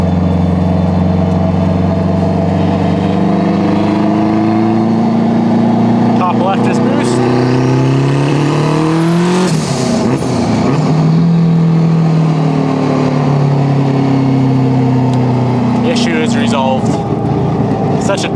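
A turbocharged car engine on pump gas at about 20 pounds of boost revs up steadily, pitch rising and falling through gears, loud and close, with a brief whoosh midway.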